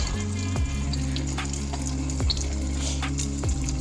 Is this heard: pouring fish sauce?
yes